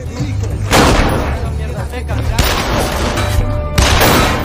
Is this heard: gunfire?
yes